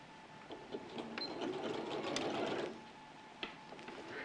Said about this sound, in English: So I'm just sewing same again.